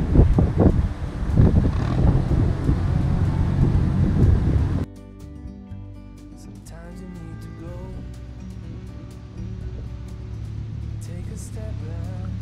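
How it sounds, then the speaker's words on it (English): Wind buffets the microphone with a loud, rumbling gust on a canal for about five seconds, then cuts away to a quieter, calmer scene. "Well, I think Fran might be having a little bit of trouble in the wind."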